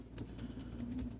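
Rapid, fairly even key presses on an Apple laptop keyboard during a startup test, soft clicks tapping along over a steady low electrical hum.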